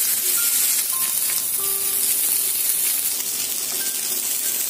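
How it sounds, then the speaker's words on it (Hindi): Uncovered broccoli frying in a pan on medium heat, a dense, steady, close sizzle with faint high ringing tones and a few light clinks, no talk. "इसे 3 से 4 मिनट तक ऐसे ही फ्राई करेंगे।"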